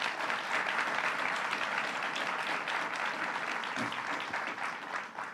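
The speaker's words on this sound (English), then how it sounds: "let's give them all a round of applause" An audience applauds the Brooklyn delegation at a borough event, a steady, even wash of clapping from a large crowd that fades slightly near the end.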